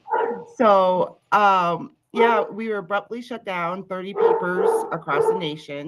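Dogs barking in a home, yips and barks mixed in beneath steady close talk from a speaker, the dog sounds brief and partly masked by the voice.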